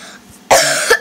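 A sick person gives a single loud, close cough lasting about half a second, with a quick second catch at the end, following a quiet stretch.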